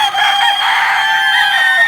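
A rooster crows loudly and close by in a backyard, one sustained call filling the short moment with no talking over it.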